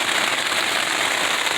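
Rain patters densely and steadily on a tent, a close, loud, even hiss of drops with no pauses.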